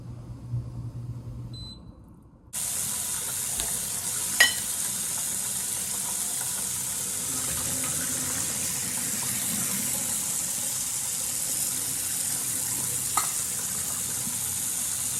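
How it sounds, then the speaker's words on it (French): Homemade keto pasta cooking in a pot of boiling water, a steady, fairly loud hissing bubble that starts abruptly after a quiet moment and continues evenly with a few small knocks. "Alors, juste un petit coup de bouillon, puis regardez, ils montent à la surface."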